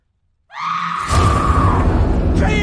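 A person in a horror film screams loudly after a brief quiet lead-in, the cry rising and then blending into a harsh, noisy roar that holds to the end.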